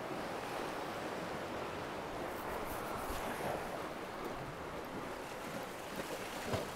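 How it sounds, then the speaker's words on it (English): Rough sea surf washes continuously along a UK shore during cod lure fishing, a dense, steady roar of waves mixed with wind buffeting the microphone, with no talk. "Oh, the sea's really coming up now."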